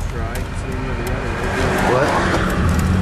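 Cars pass in a steady line of traffic, heard from inside a car as a continuous road rumble and swelling whoosh, with voices talking over it.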